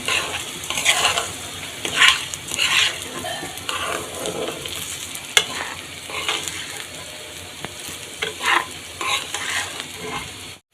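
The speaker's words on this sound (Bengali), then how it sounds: "এখন আরো কিছুক্ষণ চালগুলো ভেজে দিতে হবে।" Rice for pulao is stirred and fried in a pan, a close, continuous sizzle with repeated scraping strokes of the spoon and occasional clinks against the pot.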